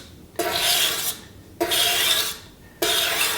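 Knife blade drawn across a medium-grit sharpening stone in a sharpening system, three long, steady rasping strokes separated by short pauses, close and fairly loud with no talking.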